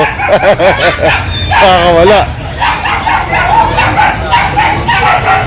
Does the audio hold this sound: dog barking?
yes